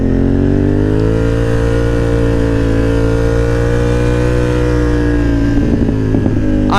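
Loud, close motorcycle engine holding a steady harmonic drone while the rider leans it through a favorite turn in first gear, rising slightly in pitch with a burst of throttle crackle near the end.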